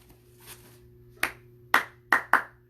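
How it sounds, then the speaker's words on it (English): Children clapping along during a bunny dance at story time, a few sharp, separate claps, one soft and then four louder ones with uneven spacing, over a low steady hum. "And clap your paw."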